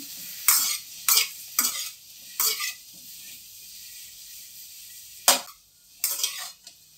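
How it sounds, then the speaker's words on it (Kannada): Washed, cut mushrooms frying in oil, heard as a series of short bursts of loud hissing sizzle and stirring scrapes separated by quieter gaps, close to the pan, with no voices. "ಇದನ್ನೀಗ ಎಣ್ಣೆ ಒಳಗೆ ಫ್ರೈ ಮಾಡೋಣ"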